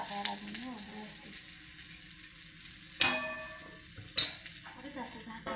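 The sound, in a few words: okra frying in a pan while being stirred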